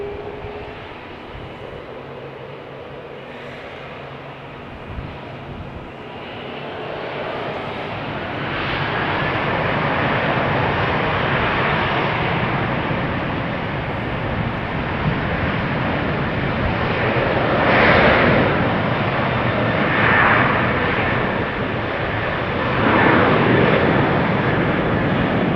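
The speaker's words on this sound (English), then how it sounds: "The A330 is pulling up." An Airbus A330 takes off at Amsterdam Schiphol Airport, its engine roar building from a distant whine to a loud, broad, sustained rumble that lingers for many seconds.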